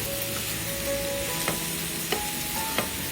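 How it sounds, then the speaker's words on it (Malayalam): Masala-coated ivy gourd pieces frying and being stirred in a pan, giving a steady soft sizzle with a few light scraping stirs of the spoon. "ഇതിലേക്ക് നമ്മൾ മസാലയൊക്കെ പുരട്ടി വെച്ച കോവയ്ക്ക കഷ്ണങ്ങൾ ഇതിലേക്ക് അങ്ങ് ചേർത്ത് കൊടുക്കാം. ഒന്ന് ഇളക്കി കൊടുക്കാം."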